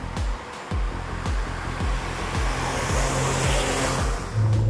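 A Lancia Delta HF Integrale Evo 2 with a roughly 215-horsepower engine drives up Tai Mo Shan. The engine drones steadily from inside the car, its pitch stepping through rises and drops as the revs change, with a rising note near the end.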